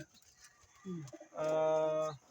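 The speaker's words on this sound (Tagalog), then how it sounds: "ang ibon natin na to, si Tondo Girl." A young racing pigeon gives a short, soft coo followed by a longer, louder cooing call, close by with faint background noise.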